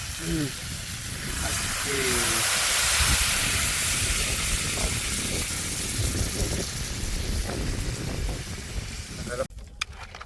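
Water hits a pot of hot crab curry and sets off a loud, sustained hiss of steam and sizzling that slowly eases off, with people talking over it.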